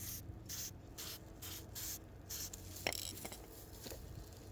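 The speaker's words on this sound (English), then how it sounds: "So I'm just simply spray painting" Casting powder is spray painted in quick bursts of hissing aerosol spray, several short blasts repeated in a rhythm, followed by a couple of light taps and rubbing sounds, all fairly quiet and close.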